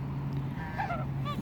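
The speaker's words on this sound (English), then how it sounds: "These are domesticated geese." A few short nasal goose honks rise over a steady low background hum, clustered briefly near the middle and end.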